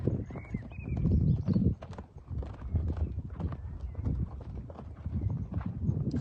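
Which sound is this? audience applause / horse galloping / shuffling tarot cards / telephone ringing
horse galloping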